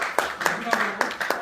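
At a Korean public hearing on terrestrial UHD broadcasting, a few hands clap in sharp, evenly spaced strokes, about six in a row, while a voice speaks over them.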